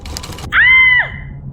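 A woman screams sharply after catching her finger in a sewing machine, a single sustained cry of about half a second, loud and close, following a brief patch of clicking noise.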